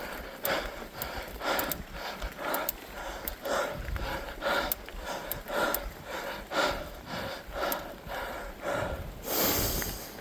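Heavy, rhythmic panting from a cyclist riding uphill repeats close to the mic, each breath a rough gasp, carried over steady background noise.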